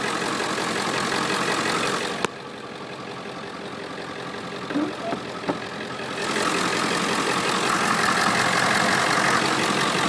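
A 1998 Ford E-Series Super-Duty school bus with a 7.3 Power Stroke turbo diesel idles steadily and close, the drone briefly dipping partway through before returning, with a couple of faint clicks and no talking.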